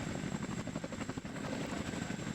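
A military helicopter in the war game WARNO, resembling the Sikorsky Raider X, with a steady, loud rotor thrum and engine drone throughout, heard alone without voices.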